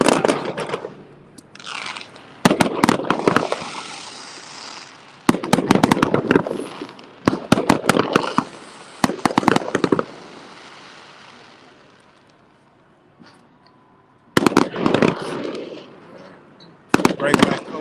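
Bursts of fireworks after a baseball game near Kodak Tower pop and crackle in dense volleys, separated by quieter gaps, heard from a nearby car with a voice speaking now and then.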